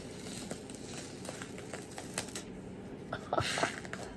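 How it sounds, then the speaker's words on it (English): A peel-off face mask pulled slowly away from skin, giving faint crackly, sticky tearing and crinkling close up, with a few sharper pops toward the end. "when you can grab a hold like this, you're gonna start to peel"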